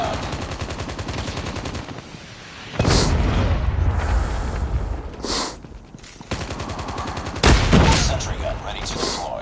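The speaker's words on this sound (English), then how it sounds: "Predator missile inbound." A predator missile strike in a video game lands as heavy booming explosions with rumbling gunfire-like bursts, loud and close, repeating in several blasts over a continuous din of battle noise.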